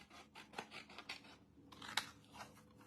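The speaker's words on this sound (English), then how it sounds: "normally I would just use a cutter, but I'm just going to use my scissors here" Scissors cut through paper for a watercolor journal, a series of quiet, crisp snipping and crunching strokes in an irregular rhythm, close and soft, with one sharper snip near the end.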